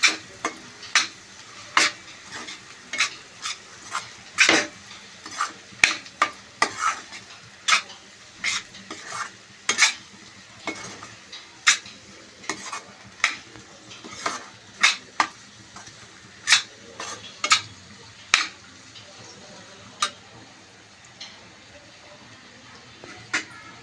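A spoon stirs jaggery into bitter gourd curry in a pan, sharp scraping knocks repeating irregularly over a soft background sizzle, close and distinct.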